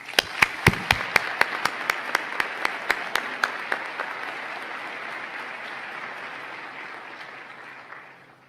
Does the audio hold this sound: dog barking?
no